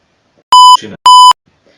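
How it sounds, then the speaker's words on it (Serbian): Two loud, identical censor beeps from a FIFA 16 game stream, each a steady electronic tone about a quarter second long, separated by a brief muffled gap. "sve se čuje bip"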